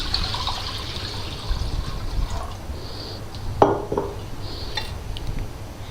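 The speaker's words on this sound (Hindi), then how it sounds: "वाटर ऐड कर दूँगी मैं।" Water runs into a cooking pot on a lit stove in a soft, steady trickle, with one sharp metallic clank of the pot partway through.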